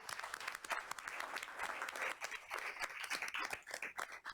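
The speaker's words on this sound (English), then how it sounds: "Round of applause." A room of people gives a round of applause at a public meeting, with dense clapping that swells and continues for several seconds.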